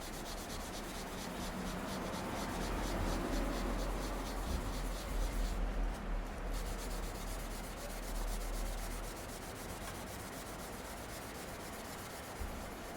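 Steady hand rubbing of a stainless steel motorcycle exhaust on a Triumph Scrambler 900 with Autosol polish, a continuous close scrubbing hiss with slight rhythmic swells and no talk.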